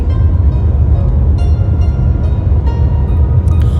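Loud, steady rumbling roar of a maglev train running at speed in Shanghai, dense low-end noise throughout with faint clicks and rattles above.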